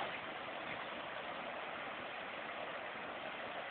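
Steady rushing of a river waterfall, a continuous broadband hiss at moderate distance with no talk.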